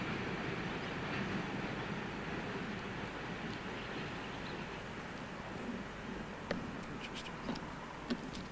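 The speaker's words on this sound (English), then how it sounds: "Big goods train." A long freight train rumbles past at a distance, a steady broad roar with faint rhythmic clicks of wheels over rail joints.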